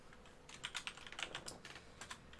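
Quick bursts of clicking keys on a computer keyboard while JavaScript code is entered, an irregular patter of close, fairly quiet keystrokes with no talking.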